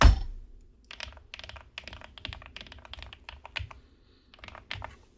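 Keys on a Kisnt KN85 keyboard with linear switches clack in quick, irregular bursts of typing, crisp and close, with short pauses between runs.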